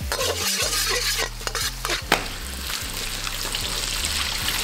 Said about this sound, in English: in I go with my shallots, and a spoonful of minced garlic. And then we begin to stir it all up.